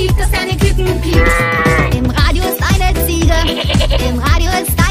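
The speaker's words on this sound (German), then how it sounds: "Im Radio ist ein Schaf und das macht Mäh." Sheep bleats ring out within a lively German children's song about farm animals, set against steady singing and instruments that carry on throughout.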